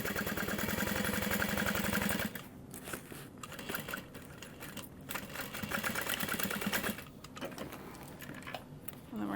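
A sewing machine back stitches a half-inch seam on a tote bag, running loud and steady up close, then continuing in a choppier, uneven run with brief pauses.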